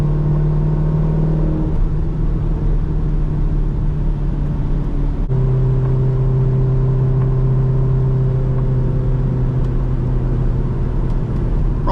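Cammed C5 Corvette with a six-speed manual rumbling steadily from inside the car on wet back roads, a loud continuous drone with a gear change partway through dropping the engine note.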